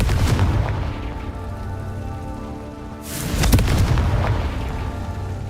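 A Confringo fire spell in Hogwarts Legacy bursting with a sudden loud whooshing blast and crackling rumble midway, over a constant rain-like game ambience.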